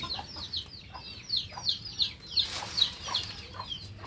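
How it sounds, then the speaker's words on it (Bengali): Chickens clucking nearby in short, repeated bursts, several hens calling over one another at an irregular pace with a brief flurry in the middle. "এই যে মুরগিগুলো দেখতে পাচ্ছ, এদেরও খেতে দিতে হয়।"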